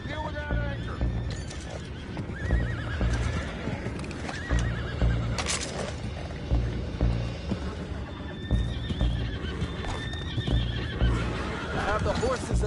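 Horses in Red Dead Redemption 2 whinny and neigh repeatedly over a steady clatter of hooves, the calls rising sharply every few seconds, with thumping game sound effects mixed in.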